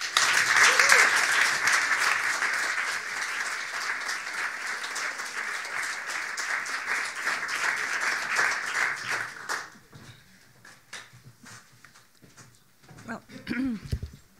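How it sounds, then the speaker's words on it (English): Audience applause welcoming a speaker to a lecture: loud, dense clapping for about nine seconds, then it fades into scattered claps as a voice begins talking. "I would like to ask all of you to welcome Aleida with a warm applause for her lecture."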